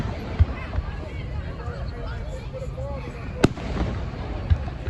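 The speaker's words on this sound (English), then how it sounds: "You guys see the fireworks?" Juneteenth fireworks pop and bang at a distance in scattered single reports, one sharper crack standing out, over a constant murmur of crowd chatter and nearby voices.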